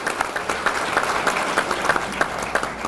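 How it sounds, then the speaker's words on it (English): A banquet audience at a peanut festival queen's banquet claps in a steady, moderately loud patter, individual claps standing out within the dense applause for the whole short stretch. "another big round of applause"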